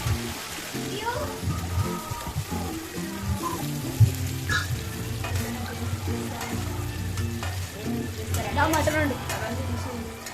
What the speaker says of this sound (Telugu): ఉల్లిపాయలు కొంచెం వేగగానే దాంట్లోకి అల్లం వెల్లుల్లి పేస్ట్ వేసుకుందాం